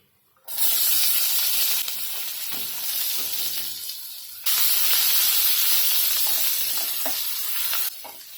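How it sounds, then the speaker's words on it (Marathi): Cumin, mustard seeds and onion sizzle loudly and steadily in hot oil, a dense close hiss with crackles and stirring that swells and eases over several seconds, with no talk. "राई तडतडली ना की कांदा टाकायचा आहे"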